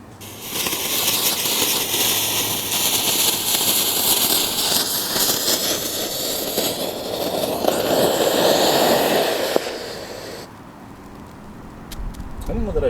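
A LiPo battery burns and vents inside a LiPo safe bag, giving a loud, sustained roaring hiss for about ten seconds before it drops off abruptly into quieter crackling and a few sharp pops.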